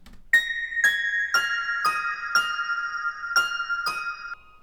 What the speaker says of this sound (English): the counter melody sounds like a bell synth that plays a really simple melody